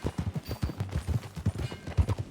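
Horse hooves clip-clop at a steady trotting rhythm in Red Dead Redemption 2, close and fairly quiet, with rumbling in the background.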